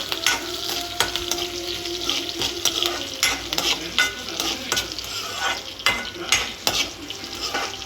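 Green chillies sizzling in hot oil in a pan for egg bhurji, with a steady fry under repeated scraping stirs of a utensil against the pan.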